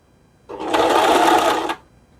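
Butterfly sewing machine stitching a buttonhole with its buttonhole foot: a steady, fast mechanical whirr of needle strokes running for just over a second, close and clear, starting and stopping abruptly.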